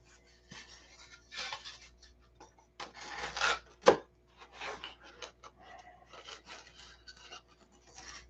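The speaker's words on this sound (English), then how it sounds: "we're going to cut outside the line because we're going to pin these to this and sand them to shape" Pieces for an Aegis SE build being cut and sanded to shape, close uneven rasping and rubbing strokes in short irregular bursts with one sharp knock partway through.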